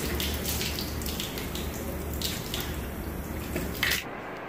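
Tap water running into a sink while someone rinses their nose, a steady close splashing flow with a few sharper splashes and drips near the end.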